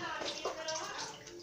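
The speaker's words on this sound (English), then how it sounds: "Filling up the pan with water?" Water runs into a cooking pan in a home kitchen, a short, steady rushing pour with faint voices in the background.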